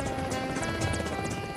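An old Russian helicopter drones with a dense, continuous rotor and engine roar, loud and steady with no voices.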